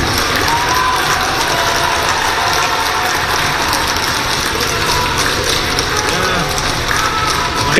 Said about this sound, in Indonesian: Kehadiran Hasto disambut riuh tepuk tangan dari anggota Kongres PDI Perjuangan